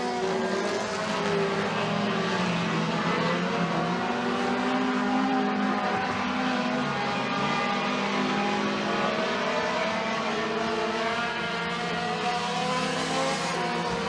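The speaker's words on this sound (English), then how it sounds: "Three laps to go for Trevor Putt in the race lead" Mini stock race cars run laps on a dirt oval at McKean County Raceway, engines droning and revving in overlapping waves, loud and continuous with pitch rising and falling as cars pass.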